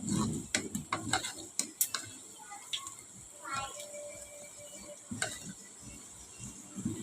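Repeated clinks and scrapes of a spoon stirring cooked lentils in a metal pot, irregular and close, with a voice speaking in the background.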